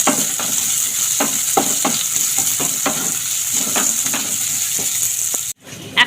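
Chopped onion and garlic fry in a hot pan with a steady, close sizzle, broken by repeated scraping stir strokes. The sound cuts out abruptly near the end, then briefly returns.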